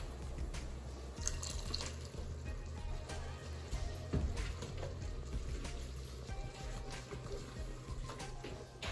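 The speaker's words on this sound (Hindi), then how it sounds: "थोड़ा सा इसमें हम पानी डालेंगे।" Water pours into a pan of butter chicken with a steady liquid rush and scattered drips, heard close over a low background hum.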